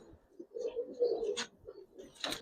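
Giribaz pigeons on a rooftop coo softly in low murmuring phrases, with a couple of brief sharp rustles or flaps, faint and close, with no talking.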